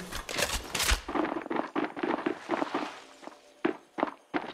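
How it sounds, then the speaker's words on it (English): Gunfire in the Apex Legends Mobile game: a loud, rapid automatic burst at the start, then a string of separate sharp shots and short bursts at uneven intervals, close and punchy, with no talking over them. "Opening fire on the enemy."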